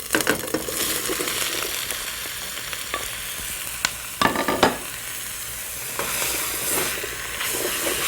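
Apples sautéing with toasted ginger and spices in a hot pan, a loud continuous sizzle and hiss with scraping stirs and a cluster of sharp clatters midway, close up and without voices.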